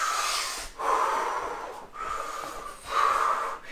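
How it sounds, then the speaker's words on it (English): People catching their breath during an exercise session: several deep, close breaths in and out with a slightly snorting, rushing quality, spaced roughly a second apart. "Have a big breath in."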